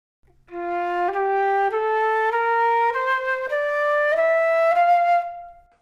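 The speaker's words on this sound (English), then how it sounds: "First you have the C flute, which is like your main flute when you think of a flute." A solo C flute plays a short rising line of clear, breathy notes, eight or so steps held smoothly one into the next, with no talking.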